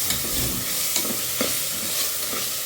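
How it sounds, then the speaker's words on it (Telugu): Spices, onion and prawns fry together in a pan for a Telugu-style prawn pulao, giving a steady close sizzle with a few soft scrapes from stirring, no voices. "ఇప్పుడు ఈ మసాలా సామాన్లన్నీ వేగుతున్నాయి ఉల్లిపాయ వేగుతుంది పక్కన రొయ్యలు కూడా వేగుతున్నాయి"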